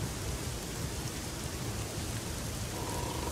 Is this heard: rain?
yes